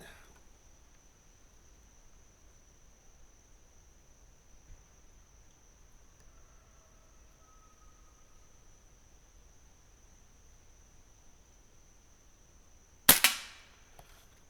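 A Crosman 1322 Backpacker air pistol fires once, a single sharp crack near the end after a long stretch of near silence.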